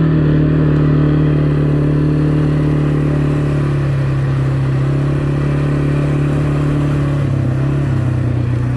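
An ATV engine drones loudly and steadily while riding, with a constant mid-pitched hum that shifts slightly in pitch as the throttle changes, close and alone with no talking.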